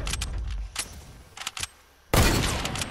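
Sniper rifle shots in the Fortnite sniper no-scope map: several sharp cracks in quick bursts, then a loud sustained blast near the end, with no talk.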